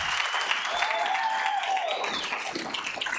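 Applause at a school board meeting honors a longtime AP Calculus teacher, a close, steady burst of clapping from the room that runs under faint talk.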